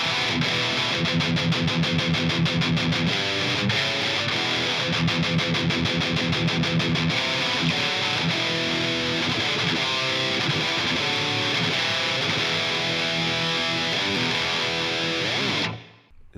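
Heavily distorted electric guitar, a Schecter MH1000 Evertune, plays a chunky metal riff, tight palm-muted chugs at first, then sustained crunchy chords before cutting off.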